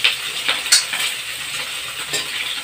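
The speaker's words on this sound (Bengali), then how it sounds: "ভালকৈ ভাজি লৈছোঁ পিঁয়াজ আদা নহৰু জলকীয়া" Onion, ginger, garlic and chilli sizzle steadily in a hot pan, a continuous crackling hiss with light scraping stirs on top, close and fairly loud with no talking.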